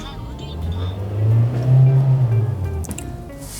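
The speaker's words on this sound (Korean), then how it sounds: "엔진 소리 한번 들어볼까요?" A Hyundai LF Sonata 2.0 engine idles with a low, steady hum that swells briefly as if revved, heard up close before settling again.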